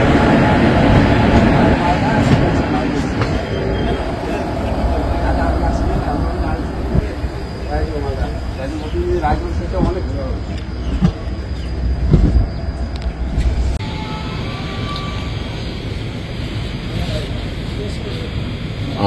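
The Haldibari Intercity Express, hauled by a WAG7 locomotive, rumbles past loudly and close, with continuous rolling wheel and carriage noise and occasional squeals. People talk over it.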